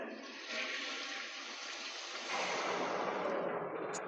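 A toilet flushing in a Skibidi Toilet themed setting, a steady rushing gush of water that swells louder partway through and continues for several seconds, close and alone without talk.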